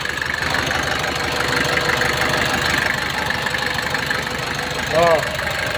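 A truck engine idles smoothly and steadily during a mountain towing job, a continuous mid-pitched rumble that stays close and even throughout, with a brief louder sound near the end.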